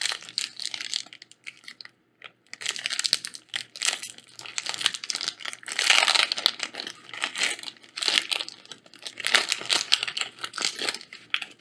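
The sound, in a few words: booster pack of Magic cards being torn open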